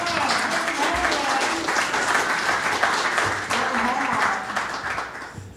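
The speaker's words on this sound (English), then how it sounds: "Big round of applause for him." A conference audience greets the incoming CEO and President with steady applause, dense clapping sustained for several seconds and tapering slightly toward the end, with faint voices mixed in.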